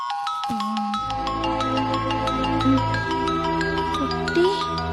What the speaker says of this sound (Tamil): என்ன குட்டி இந்த நேரத்துல ஃபோன் பண்றான்?